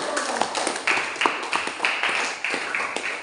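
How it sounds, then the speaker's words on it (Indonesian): Small group clapping during a school counseling training session, sharp separate claps in a loose, irregular rhythm, fairly close and loud, with no talk over them. "tepuk tangan semua."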